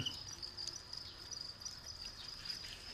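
Small crickets raised in concrete pipes on a village farm chirp in a steady, dense high trill, close and continuous throughout with no talking.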